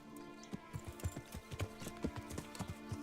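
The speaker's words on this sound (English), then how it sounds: "there you are, my magical horsey" Hooves of a horse named Pebbles clip-clop in Kingdom Come: Deliverance, a quiet, steady walking rhythm of distinct close hoof strikes.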